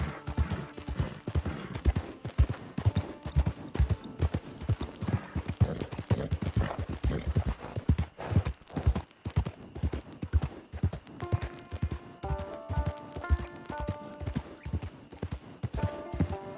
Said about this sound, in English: And this is quite a bad horse.